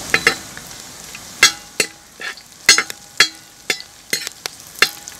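Five halved green chillies frying in a pan for a village-style quail curry, a steady close sizzle broken by about a dozen sharp spatula scrapes and clacks against the pan, with no voices.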